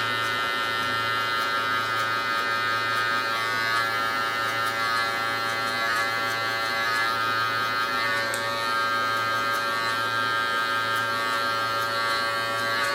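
Electric hair clippers fitted with a 5 guard cut hair during a mid taper fade, a steady close buzzing hum that runs continuously and evenly with no talk.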